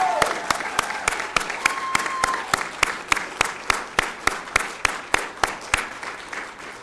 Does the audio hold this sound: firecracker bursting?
no